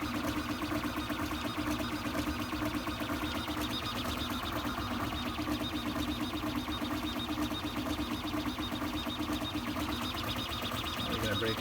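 A HevORT CoreXY 3D printer on MGN rails running at about 495 mm/s, giving a steady, dense mechanical whir and rattle of fast-moving motors throughout, loud and continuous.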